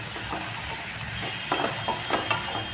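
Soaked puffed rice is sautéed in a pan for murmura poha, a low frying sizzle with soft intermittent scraping stirs from a spatula, close and unhurried.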